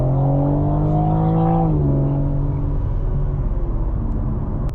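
A 2022 BMW M4 Competition pulls hard, its engine note climbing loudly through the revs, then dropping briefly at a gear change before rising again, close and dominant with no talk over it.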